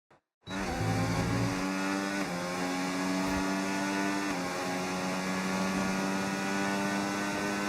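Formula 1 car in the F1 25 video game lapping Albert Park in Melbourne during Australian Grand Prix qualifying: a loud, steady high-revving engine drone that steps through gear changes, alone after a brief quiet start.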